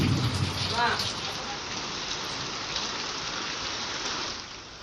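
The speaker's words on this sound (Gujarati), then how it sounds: "બનાસકાંઠાના યાત્રાધામ અંબાજીમાં પણ ધોધમાર વરસાદ પડ્યો" Heavy rain pours down steadily in Ambaji, Banaskantha, a dense, loud and continuous hiss close by that eases slightly near the end.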